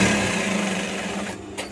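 A sewing machine whirs continuously and close up while stitching a reinforcing seam on a batik shirt, with no pauses.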